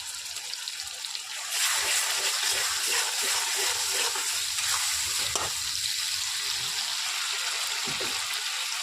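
Ginger, chili, coriander and cumin paste sizzles loudly as it hits hot oil for a vegetarian ghugni, a steady close frying hiss with faint stirring scrapes and no talk.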